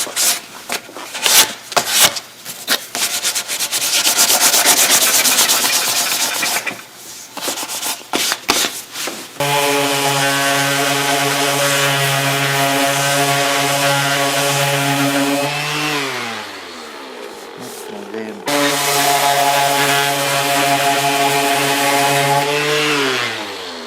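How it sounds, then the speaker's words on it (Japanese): Wooden dining table parts being sanded with sandpaper, a loud continuous abrasive rubbing with brief bursty strokes at first, then a steady droning tone that shifts pitch near the end; no talking. "またペーパーでひたすら 今取ったところを削る。"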